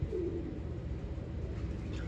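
Teddy pigeons cooing in a loft, a low soft burbling coo that runs steadily through the moment, fairly close, with no talk over it.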